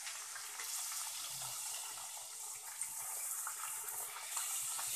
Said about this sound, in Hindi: तेल हमारा गर्म हो चुका है, अब हम इसमें एक एक करके अपनी पूड़ियां तलेंगे।